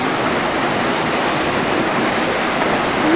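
A waterfall pours in a continuous, loud, broadband roar that holds steady without a break, close by, with no voices over it.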